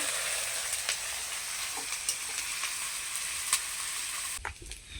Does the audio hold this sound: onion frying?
yes